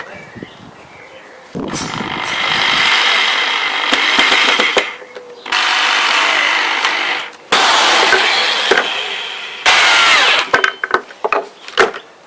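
A power drill drives screws into wood parts of a homemade push-up bar, sounding in several loud sustained bursts separated by short pauses, ending with a few quick clicks and taps.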